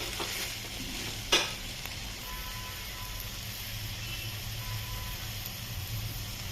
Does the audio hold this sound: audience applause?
no